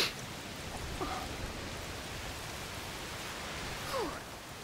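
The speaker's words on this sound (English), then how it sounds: "Oh, it's raining a lot." Heavy rain falls steadily in the video game A Plague Tale: Requiem, a dense, even hiss that fills the scene, with a couple of faint tonal chirps over it and no speech.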